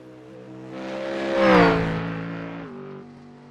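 A GT3 race car in the iRacing sim at Okayama sweeps past with a rising then falling engine tone, building to a peak and fading away.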